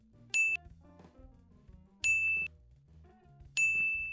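Three bright bell dings ring out at even intervals, each a clear metallic chime that briefly sustains before fading, with faint quiet sounds between.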